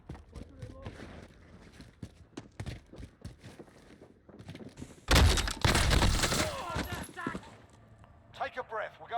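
Bursts of gunfire in the video game Call of Duty: Modern Warfare, scattered shots that swell into a dense, loud volley midway, with a person talking over the game sounds.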